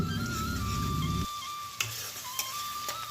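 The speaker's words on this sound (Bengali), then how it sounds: "এবার চিংড়ি মাছগুলোকে দেখো তেলের মধ্যে আমি ভালো করে লাল লাল করে ভেজে নিয়েছি" Turmeric-coated prawns fry in oil with a dense, close sizzle that cuts off abruptly after about a second, leaving a quiet hum broken by a couple of sharp clicks.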